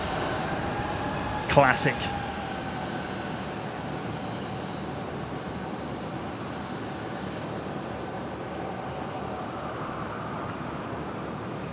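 A Qantas airliner lands on runway 19 left at Brisbane International Airport, producing a steady, broad roar of engine and rushing air from a distance. A brief click sounds early on, and a voice speaks a word.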